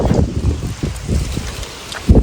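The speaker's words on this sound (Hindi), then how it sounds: "हवा तूफान चालू हो गया" Strong gusty wind drives rain across a farm field, loud and continuous with rumbling buffeting against the microphone and bursts of rain patter, no voices present.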